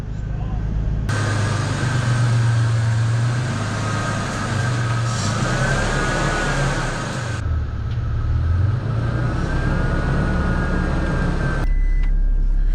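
A Toyota Tacoma pickup drives in four-wheel-drive low range, its engine and drivetrain a steady low drone rising and falling with road noise, while people talk inside the cab.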